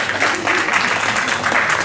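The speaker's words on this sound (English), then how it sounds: "Please give them a big round of applause" Steady audience applause from a crowd at a school parent orientation session for class 10, dense continuous clapping that stays loud and even throughout.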